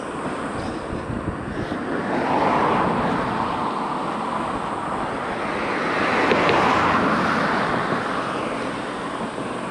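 Cars pass along a town street, their broad road roar swelling twice and fading, mixed with wind and steady outdoor ambience.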